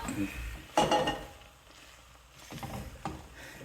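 A utensil scrapes a last stuck bit of food from a cooking pan, making a few short, close scraping strokes and metallic clanks in a quiet kitchen.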